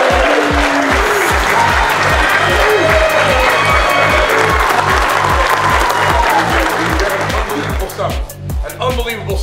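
A team gathering for the Minnesota Gophers football uniform reveal breaks into loud, sustained applause and cheering, with a rhythmic pounding beat underneath and shouts from the crowd, easing slightly at the end.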